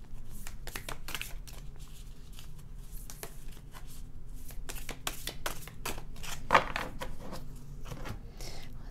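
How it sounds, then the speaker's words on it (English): Tarot cards are shuffled by hand in a steady run of crisp riffling and slapping strokes, close and continuous, with one sharper tap near the end. "Let's shuffle it again."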